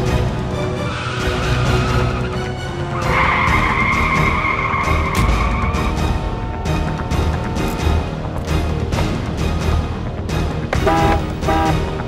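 A car skids to a stop in the middle of a road during a tense chase scene in a TV drama, with a long tire squeal rising over a loud dramatic music score.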